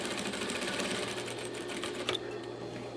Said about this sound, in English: I'm just going to do a nice edge stitch right here, sewing the two layers together